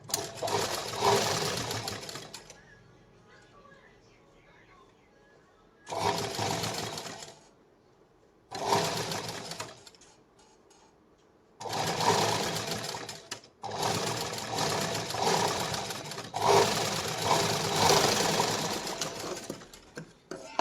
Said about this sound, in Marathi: आणि त्याच्यानंतर मग आपण याला पूर्ण दाब शिलाई देणार आहोत